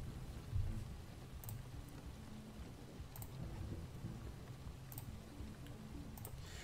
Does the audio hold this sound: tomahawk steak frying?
no